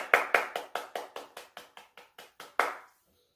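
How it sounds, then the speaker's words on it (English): At a symposium, about a dozen crisp claps ring out in an even, quick rhythm with a short echo after each, then fade into silence. "Let's give him a round of applause."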